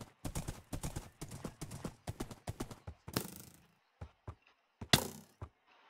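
Hoofbeats of a horse in the Minecraft video game, a quick run of sharp clip-clop steps followed by sparser, scattered clops, fairly quiet with nothing else prominent.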